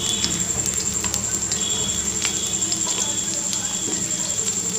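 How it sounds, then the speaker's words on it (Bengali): Two large onions frying in plenty of oil for beresta, a steady close sizzle with crackling pops and a faint high whine, while a voice talks over it. "বেরেস্তা যেমন করে বানাই ওভাবে ভেজে নেব।"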